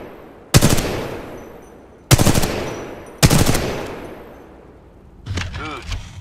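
Three sharp, loud gunshots from a weapon in Titanfall 2, each with a ringing decaying tail and spaced about a second apart, followed by a short voice speaking.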